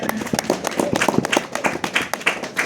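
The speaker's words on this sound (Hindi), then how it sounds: "ताली बजा।" A church congregation claps in a steady, dense rhythm, many hands striking close and loud together with no pause through the whole stretch.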